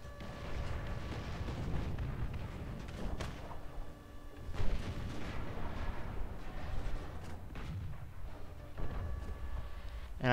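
Tank gunfire in War Thunder from a Japanese M41A1 match: repeated heavy booms and thuds under continuous rumbling battle noise, some nearer and sharper, others muffled and distant, with no clear talk.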